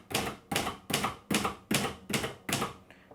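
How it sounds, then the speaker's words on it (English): Rapid mechanical keystrokes on a Royal 200 manual typewriter in seven quick bursts, clacking loudly and close with brief gaps between each run of keys. "As you continue typing towards the right of the page"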